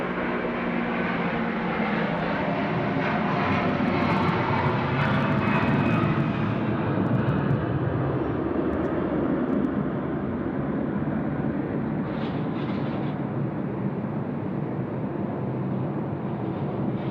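A Hawaiian Airlines airliner roars at Sydney Airport at night, its engine noise loud and sustained throughout, a broad continuous rumble with no talk over it.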